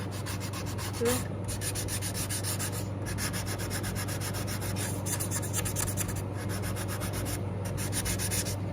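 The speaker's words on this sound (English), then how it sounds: "I think I've taken off enough detail with this little sander" A small handheld sander works over a wooden cigar box guitar on a workshop bench. The rough rubbing sound is close and steady, with slight rhythmic pulsing through the strokes and no talking.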